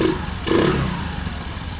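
A 2022 Honda Navi motorcycle engine idles after an intake modification: a steady, close, low mechanical rumble with one brief surge near the start, heard alone.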